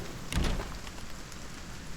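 Steady rain falling in the Silent Hill 2 Remake video game, a soft continuous hiss with a brief louder rumble near the start.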